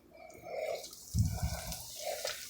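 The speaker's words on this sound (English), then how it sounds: "Thing is already sizzling." A chicken cutlet sizzles in a hot frying pan with a steady, close hiss, broken by a few duller thumps and crackles partway through.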